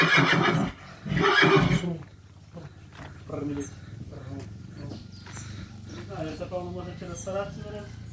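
A Percheron mare gives a loud, shrill whinny up close, followed by people talking over a low background hum.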